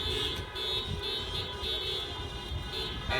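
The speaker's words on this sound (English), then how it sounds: "as you can hear them beeping off in the distance here" A caravan of protesting Uber drivers in San Francisco sounds car horns, beeping at a distance over steady street and traffic noise without a break.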